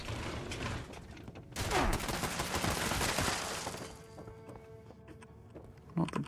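Gunfire in Fallout 76: a dense burst of rapid shots rings out, then tapers into scattered clicks and lighter mechanical sounds, fairly loud and close with no talking.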